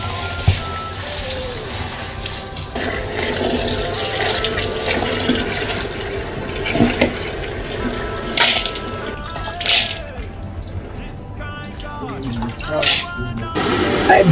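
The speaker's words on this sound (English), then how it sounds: "I start by washing my beans." Running water splashes and swishes continuously, with clattering and rinsing movements close by, as beans are washed in a bowl.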